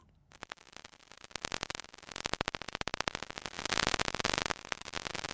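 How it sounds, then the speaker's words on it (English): A dense, rapid train of underwater vaquita porpoise clicks crackles steadily, speeding up and growing louder before thinning slightly, with no voices. "This is the sound of the so-called senorita of the sea, the Vaquita porpoise"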